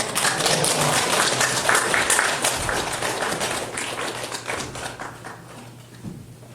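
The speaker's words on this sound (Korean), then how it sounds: "하나님께 박수로 영광 돌리면서 감사하면서 할렐루야 다 환영하겠습니다" A church congregation claps together to welcome a guest pastor at a Sunday afternoon service, a dense, loud wash of handclaps that holds steady and then gradually fades away toward the end.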